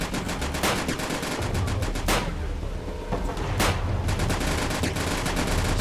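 Video game gunfire: bursts of rapid automatic fire and single sharp shots crack repeatedly over a rumbling background, loud and close, with a few brief pauses.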